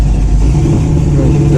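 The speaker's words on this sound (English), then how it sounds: "Truck sounds good." Truck engine idling and revving at an outdoor classic car show cruise-in, a loud, close, deep rumble held steady over a brief moment, with a voice talking over it.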